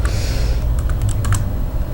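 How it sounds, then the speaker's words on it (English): Typing on a computer keyboard while entering an equation, with a scattered run of light, close key clicks over a steady low hum and no talk. "I'm just using the keyboard for that as well."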